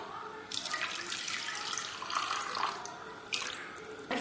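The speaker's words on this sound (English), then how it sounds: "Add about 1 cup of water." Water poured into a cooking pot while making rasam curry, a steady splashing pour running for several seconds with a few louder surges, fairly close and with no talking.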